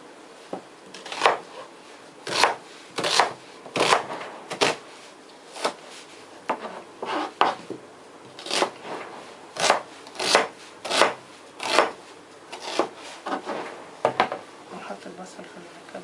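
Knife chopping onion and garlic on a cutting board while preparing Korean tteok galbi, about a dozen firm, evenly spaced thuds close by, with a person talking throughout.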